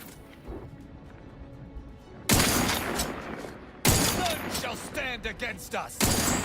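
Gunfire in the sci-fi video game The Outer Worlds 2: loud sudden bursts of shots and impacts breaking out after a quiet stretch, repeating in heavy volleys with crackling debris.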